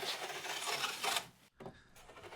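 Hand tool rasping along a wooden moulding as it is shaped by feel, close scraping strokes that pause briefly midway before resuming.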